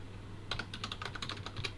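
Quick keystrokes on a computer keyboard while a theme is renamed, about a dozen close, crisp taps in an uneven burst over a low steady hum.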